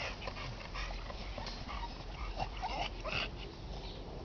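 A young puppy of about four and a half months makes soft whimpers and little yips, faint and close, over a constant background hiss.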